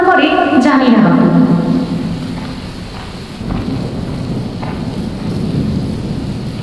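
A heavy cartoon downpour over paddy fields starts with a loud thunder rumble, then settles into a dense, steady hiss of rain.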